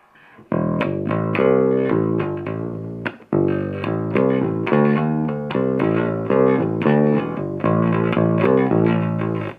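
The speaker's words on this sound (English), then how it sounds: "overdrive the power section now and get a whole different type of distortion out of the amp" An Ampeg bass amp with its power section overdriven plays a chunky, distorted riff, loud and saturated, with brief pauses between phrases.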